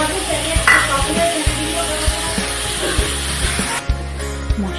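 Rice and green peas tipped into boiling dal in a pan for Gobindobhog rice khichuri, a steady bubbling sizzle with a few soft knocks and scraping stirs, close and fairly loud throughout.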